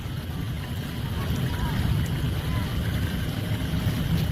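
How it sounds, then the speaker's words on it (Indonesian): A concrete mixer truck's drum turns continuously to keep fresh concrete from drying during road casting work around a capping beam, producing a steady, fairly loud low mechanical rumble with a broad wash of noise that holds unchanged throughout. "kita juga bisa melihat kondisi dari molennya yang terus berputar untuk mengaduk agar nantinya tidak kering ya"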